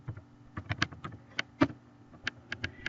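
Quiet, irregular clicks of keys being tapped on a computer keyboard, a short burst of typing with uneven pauses between strokes, close and faint with no voices.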